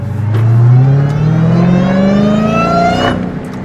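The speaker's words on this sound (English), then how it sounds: "I'm gonna go ahead and turn the AC down and get on it a little bit so y'all can really hear the exhaust" A Dodge Hellcat Charger fitted with a new aftermarket exhaust revs hard, its deep engine note climbing steadily in pitch through one long, loud pull before easing off near the end.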